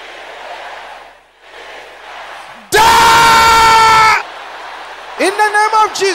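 A church congregation at a prayer service erupts in a loud, sustained crowd roar of shouting, followed by several short bursts of collective yelling after quieter murmuring.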